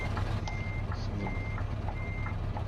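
Repeated truck reversing beeps in a trucking simulator game with a Scania 730 V8 10x4 snow roller, a steady series of evenly spaced electronic beeps over a constant low engine hum.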